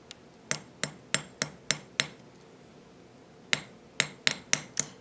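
Hammer blows flaring a wire rivet: eleven sharp metallic taps, close and fairly loud, in two bursts with a quiet pause between them and no talking.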